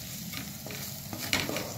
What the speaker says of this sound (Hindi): अब इसमें मसाले डाल दें, इनको मिक्स कर लें अच्छे से।